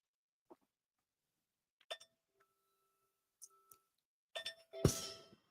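A trading platform's 15-minute alert bell sounds as a few sparse, bright dings and clinks with quiet gaps between them. A louder, noisier burst follows near the end.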